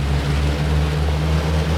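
An airplane engine in the X-Plane flight simulator, throttling up for takeoff. It makes a loud, steady droning hum with a strong low tone and is heard alone, with no talk.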